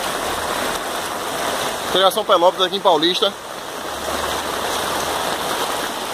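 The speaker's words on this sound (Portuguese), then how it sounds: "Olha a força da água." Floodwater rushing through a flooded street in Paulista, a steady loud roar of moving water throughout with someone speaking briefly over it in the middle.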